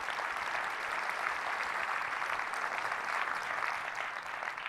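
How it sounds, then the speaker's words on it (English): Sustained applause from a conference audience at a Silicon Valley VR expo, dense and steady clapping filling nearly five seconds without pause. "Let's give them an applause."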